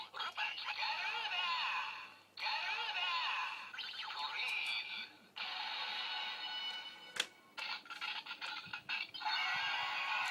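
Kamen Rider Wizard Garuda ring toy playing its electronic sound effect, a loud, bright, harsh bird-like screech in bursts, repeated several times with short gaps and a click between them.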